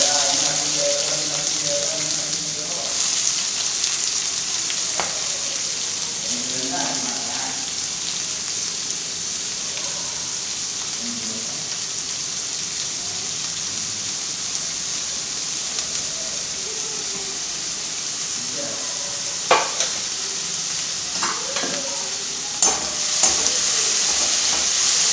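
Onions fry in a pan with garlic for aloo methi, giving a continuous soft sizzle that runs for a long stretch. A few scattered clinks and stirring scrapes sound against the pan, with faint water-like noise mixed in.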